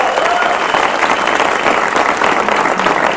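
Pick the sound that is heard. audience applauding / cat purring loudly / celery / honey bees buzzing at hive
audience applauding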